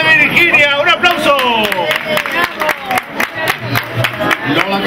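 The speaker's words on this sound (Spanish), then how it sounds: "¡Un aplauso!" Audience clapping at a prize giving during the Cruz de Mayo festival in Churriana, with rhythmic, close claps building under cheering voices, loud and steady, while people talk over it.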